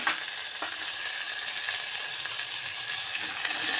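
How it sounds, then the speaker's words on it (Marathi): Tomatoes hit a hot frying pan, giving a bright, continuous hiss and sizzle with light crackling, moderately loud and steady with no talking. "आता टोमॅटो टाकून घ्यायचा."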